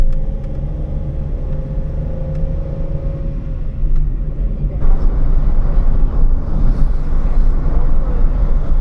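Interior of a moving ride-hailing car in Islamabad, a steady low engine and road rumble that grows louder partway through as the car picks up speed, with no clear talk.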